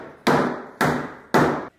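Three loud, evenly spaced hammer blows during a Nissan S14 engine rebuild, each a sharp crack with a short ringing decay, about half a second apart and close by, with no talk.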